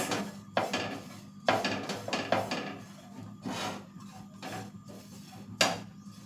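A spoon scrapes and stirs grated coconut in a pan, with repeated rasping strokes that come in irregular bursts, close by, over a low background hum.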